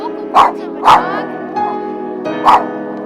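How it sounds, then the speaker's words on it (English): A dog barks in three sharp, loud yips spaced across a few seconds, with a softer growl-like sound between them, heard close up. "As you can see, the Chad growling and barking."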